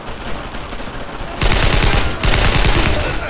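Dense machine gun fire rattles from a position in the Brothers In Arms World War II shooter, a steady stream of fire that grows louder and heavier partway through.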